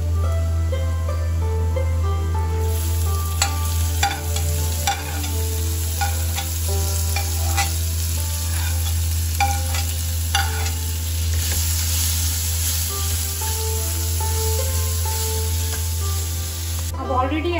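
Chopped onion and garlic stir-fried in a pan, a continuous close sizzle punctuated by repeated spatula scrapes and clinks against the pan over a low steady hum.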